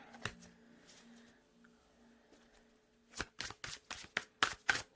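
Tarot cards shuffled by hand: after a few seconds of faint room sound, a quick run of crisp riffling bursts, about eight close, loud flutters in fast rhythm, with no voices.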